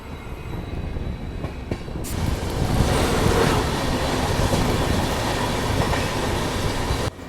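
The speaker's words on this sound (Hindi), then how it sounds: "और शायद से ये अजमेर आगरा फोर्ट एक्सप्रेस है।" The Ajmer–Agra Fort Express rolls past close by, a loud, continuous rumble with wheel clatter that swells and holds before cutting off near the end.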